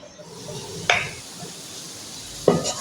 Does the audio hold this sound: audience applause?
no